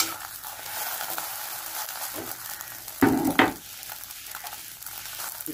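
An omelet frying in a pan gives a steady soft sizzle, and about midway a louder burst of scraping and stirring is heard as the egg is folded.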